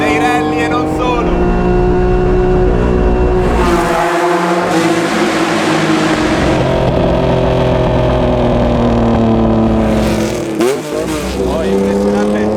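A Lancia Stratos Alitalia Group 4 rally car drives hard, its loud engine rising and falling through the gears with sharp revving surges as it throws itself into corners, close and dominant, with a person talking over it.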